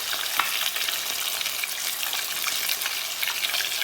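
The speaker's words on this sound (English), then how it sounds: "So our fish is finished frying because we fried it." Snapper fillets fry in hot oil, giving a dense, even crackle and sizzle that runs steadily throughout without voices, with small pops scattered across it.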